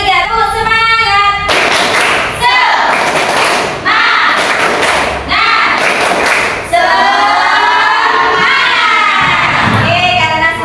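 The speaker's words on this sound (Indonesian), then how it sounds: "mari kita tepuk semangat dulu agar lebih semangat dalam pembelajaran" A class of children does an Indonesian rhythmic spirit clap, clapping in a pattern interspersed with loud shouted chanting in unison, energetic and close.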